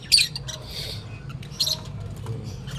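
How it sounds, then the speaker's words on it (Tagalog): Hand-fed baby birds give high, scratchy squawks and chirps in short bursts, close by, over a low steady background hum. "Dami naman tayong mabibigyan ng ibon."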